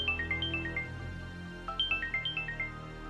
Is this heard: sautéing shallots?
no